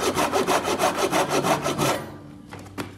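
A handsaw cuts a kerf into a wooden axe handle during hafting, with about a dozen steady rhythmic back-and-forth strokes up close for two seconds, then a few faint scrapes and a knock.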